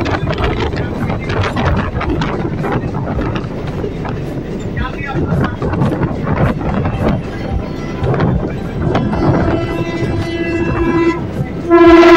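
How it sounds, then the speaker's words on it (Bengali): A passenger train pulls into Habra station with a loud, steady rumble and rattle of wagons, and drawn-out horn tones sound near the end. People talk throughout over the rolling train noise. "ট্রেনটা এখন ঢুকছে আমাদের হাবড়া স্টেশন"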